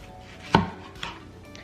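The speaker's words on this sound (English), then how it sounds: "have a mango, and normally I take my knife and go on either side of the big pit that's in the middle and then try to cut away" A knife slicing a mango beside the large pit lands in one sharp chop on a cutting board, followed by a softer second cut, close and isolated with no talking.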